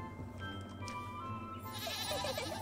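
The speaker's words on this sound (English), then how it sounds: "You know this goat." A goat companion bleats in the video game Little Goody Two Shoes, a wavering cry rising over soft game music and ambience near the end, fairly close.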